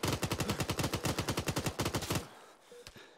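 Rapid machine gun fire in a military shooter video game: a steady burst of about two dozen close, loud rounds lasting roughly two seconds, then breaking off into quiet background.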